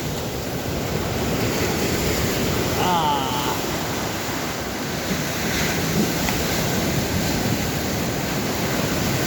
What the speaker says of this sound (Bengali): সমুদ্রের পাড় দিয়ে হাঁটি।